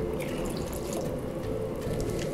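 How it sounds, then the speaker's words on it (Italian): Water pours steadily into a pot of fried rice in a kitchen, a continuous splashing flow without talk. "Adesso aggiungiamo un po' di acqua dentro il riso,"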